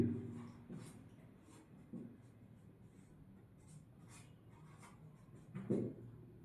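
A pen writing by hand on paper while working a tenth-grade geometry problem on cones, heard as faint, close scratching strokes with a few soft taps at an uneven rhythm, with no talking.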